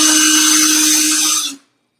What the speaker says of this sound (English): Let's just burnish up the edge.